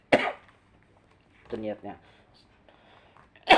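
A man coughs during a spoken lesson on tayammum, with a short harsh burst at the start and another at the end, and speech in between.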